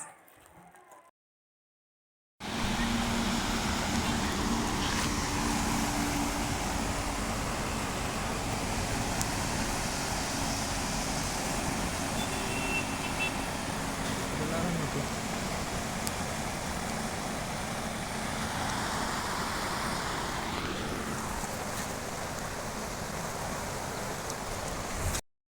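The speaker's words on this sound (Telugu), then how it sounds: "మీకు ఆ వాటర్ సౌండ్ కూడా వినిపిస్తాను." Rainwater rushing steadily through farm fields and streams outdoors, a continuous broadband wash that stays loud and even throughout, with a brief quiet gap at the very start.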